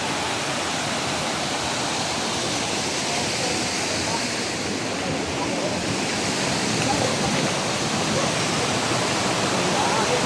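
Clear water rushing in a forest stream, a steady dense broadband wash of flowing water that stays close and loud throughout with no breaks.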